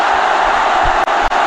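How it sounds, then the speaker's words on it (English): Cricket stadium crowd in Pakistan versus New Zealand cheering for Babar Azam, a loud, sustained roar of many distant voices with two brief dips near the end. "there's a massive cheer around the ground for Babar Azam."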